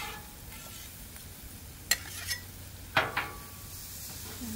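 Steak pieces sizzling on a Blackstone griddle for beef stroganoff, a faint steady fry punctuated by a few sharp scraping and metal spatula clinks.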